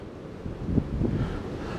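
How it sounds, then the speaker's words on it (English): Gusty wind buffets the microphone with a low, rumbling roar that swells briefly in the middle; no voices are heard. "It's windy."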